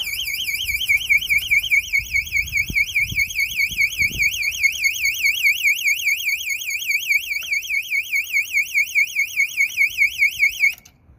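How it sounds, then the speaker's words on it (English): Household alarm blaring after the power is switched off during under-floor cable work, a loud continuous warbling electronic siren that holds steady for about ten seconds before cutting out, alone with some low thumps. "the alarm starts screaming"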